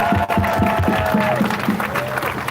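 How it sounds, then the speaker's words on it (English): A crowd at an outdoor protest rally for Elijah McClain claps for a speaker, loud and close, with rhythmic rallying hand claps and some voices mixed in. "Let's give it a round of applause to our comrade Maritza."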